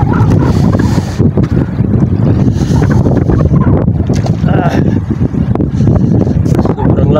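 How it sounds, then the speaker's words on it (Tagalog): Strong wind roars and buffets the microphone over open water during a night fishing trip as a storm arrives, loud and constant, with a voice speaking intermittently beneath it. "Simula na yung hangin."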